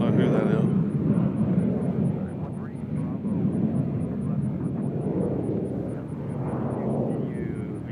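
Taylor Swift's aircraft at Nashville airport, its engines a broad, steady rumble under people talking.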